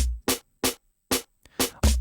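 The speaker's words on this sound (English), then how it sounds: "In this case, I used a percussion loop for it" A sparse reggaeton percussion loop of punchy hits in a syncopated pattern, with short silences between strikes, loud and close.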